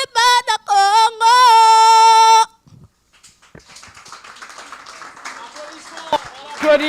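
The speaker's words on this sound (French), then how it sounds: "Est-ce qu'on peut les applaudir très fort" An audience applauds a performing duo at a live show. The applause starts faint after a loud, sustained voiced passage and swells into steady, dense clapping.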